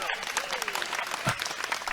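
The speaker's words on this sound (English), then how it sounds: "How's that clap? Is that clap okay?" Clapping is heard throughout, moderately loud and continuous, and a voice talks over part of it.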